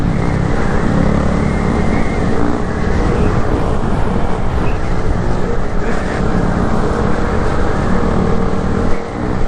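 A 2022 Honda Grom motorcycle engine roars loud and close as the rider shifts into third gear, with heavy wind buffeting over a dense, steady drone.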